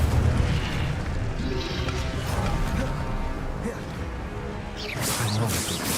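Spells in Hogwarts Legacy, including a fire spell, hit with heavy booming blasts and crashing impacts over a dense, loud backdrop, with a sharp burst near the end.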